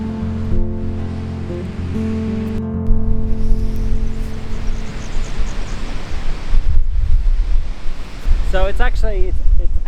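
Waves and surf roll onto a beach on a southern coast, a broad rushing wash with wind buffeting the microphone, while an engine-like drone fades early and a voice briefly speaks near the end.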